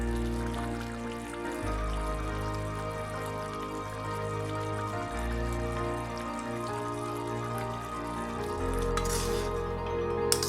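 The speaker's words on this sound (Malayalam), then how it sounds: "10 മിനിറ്റ് ചെറിയ തീയിൽ കിടന്ന് ഇനി ഒന്ന് തിളച്ച് വരട്ടെ" Coconut pickle simmering in oil over a low flame, giving a steady soft bubbling and sizzling close by, with faint clinks, continuous throughout with no talk.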